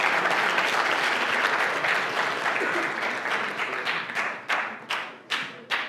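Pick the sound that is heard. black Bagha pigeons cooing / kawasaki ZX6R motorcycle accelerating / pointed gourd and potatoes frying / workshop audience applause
workshop audience applause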